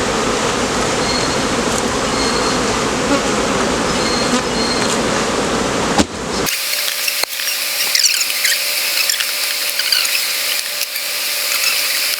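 Honeybee swarm buzzing during removal of comb from a hive, a dense continuous drone that suddenly thins out after a few seconds into a lighter, higher buzz with scattered individual bees close by.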